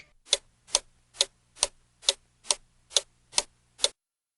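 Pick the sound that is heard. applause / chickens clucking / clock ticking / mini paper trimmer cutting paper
clock ticking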